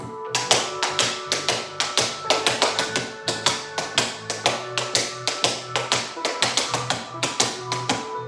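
Fast, dense advanced tap dance exercise across the floor, sharp metallic taps in a continuous driving rhythm with accented beats, over soft background music.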